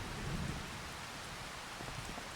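Rain falling on a farm in a farming video game, a steady dense hiss of rainfall with faint low rumbles underneath, constant and even throughout with no speech.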